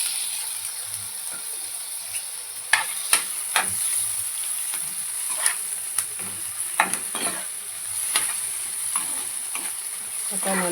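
Tomato with dried red chillies cooking down in a pan for black urad dal chutney, a steady soft sizzle with scattered scrapes and clinks of a spoon stirring, close by and without talk.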